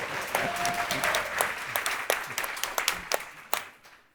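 Audience at a developer productivity engineering showdown event applauds a contestant, a dense patter of clapping with sharp individual claps standing out, fading toward the end.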